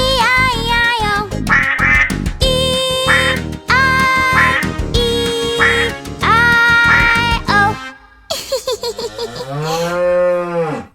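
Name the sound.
duck quacking in a cartoon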